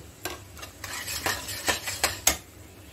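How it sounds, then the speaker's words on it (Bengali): Spice paste with tomato and a little salt is stir-fried in a pan, with a spatula scraping and knocking against the metal in uneven strokes over a soft sizzle. "এখন মশলাটাকে ভালোভাবে কষিয়ে নেব, যে পর্যন্ত মশলা থেকে তেল বেরোচ্ছে না"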